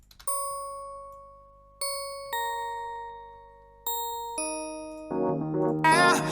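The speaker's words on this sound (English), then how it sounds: "I put some bells in there, if you can hear these bells like this" Bright chiming bells ring out in separate struck notes, each decaying slowly, before a denser shimmering musical passage swells in at the end.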